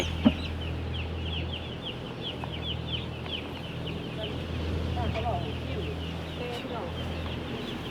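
Chickens cluck and chatter steadily in the background on a poultry farm, with a low continuous hum underneath and a brief sharp knock near the start.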